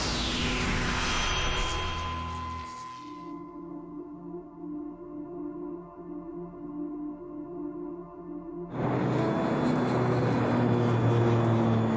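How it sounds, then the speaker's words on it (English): Ansett New Zealand Flight 703 cruising toward Palmerston North: a steady drone of aircraft engines, starting as a broad roar, settling into a lower tonal hum with propeller-like harmonics, then swelling back to a louder wideband rush near the end. "It's 9 in the morning as Ansett New Zealand Flight 703 cruises towards the city of Palmerston North, New Zealand."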